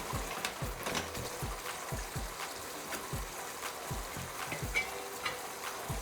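Mapo tofu sauce boils down in a pan with a steady, close sizzle and dense small bubbling pops that keep up without a break.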